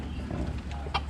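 A rooster in a garden gives soft low clucks and one brief sharper call near the end, fairly close, with no talking.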